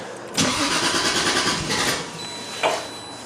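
A Toyota Supra engine cranks and catches with a loud, rough burst near the start, runs unevenly, then gives a second brief surge just before the end; no talking.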